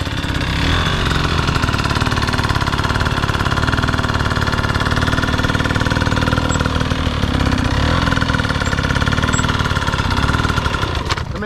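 Dirt bike engine running at low, steady RPM through a cone weave drill, a loud continuous single-note drone close to the microphone with no revving throughout.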